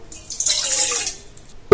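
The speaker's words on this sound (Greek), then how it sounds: "στον κάδο του μίξερ θα προσθέσουμε 80 γραμμάρια νερό" Water streams into the bowl of a stand mixer in a kitchen, a close, steady hissing pour lasting just over a second before a sudden loud knock at the end.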